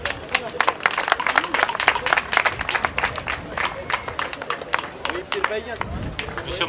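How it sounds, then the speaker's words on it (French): An audience claps steadily throughout, a dense patter of applause filling the space, with voices in the background. "Applaudissements s'il vous plaît."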